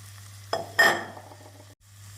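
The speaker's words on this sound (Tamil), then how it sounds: "நாம் பாகற்காயை ஒரு நிமிடம் வெங்காயத்துடன் நன்றாக வதக்கி" A spatula scrapes and stirs bitter gourd frying with onions in a pan, with a soft sizzle and a couple of brisk scraping strokes over a steady low hum, close and without talking.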